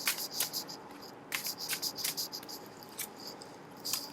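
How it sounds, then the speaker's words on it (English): Tarot cards being shuffled by hand: quick papery riffles and rustles arrive in short bursts with brief pauses between them, close and fairly quiet. "Oh, now they're going to let me shuffle."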